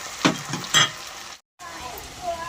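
Onions frying in a pan with a spoonful of ginger-garlic paste added, a steady sizzle with two louder stirring bursts early on, then a brief silent gap before the frying hiss resumes.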